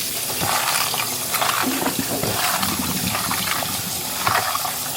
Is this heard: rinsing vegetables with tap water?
yes